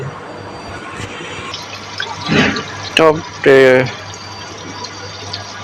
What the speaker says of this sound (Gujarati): ટાંકો ભરાય છે